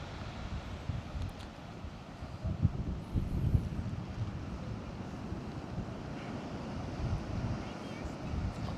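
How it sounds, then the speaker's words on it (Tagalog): Strong sea waves wash onto the shore at Tenby in a steady, rough roar, with wind buffeting the microphone throughout and faint voices in the background. "Malakas sa alon, malakas sa alon."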